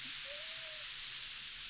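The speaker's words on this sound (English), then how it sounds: "White noise." A white noise sound effect for a song plays as a steady, loud, bright hiss throughout, with a faint thin tone briefly gliding beneath it early on and no voices.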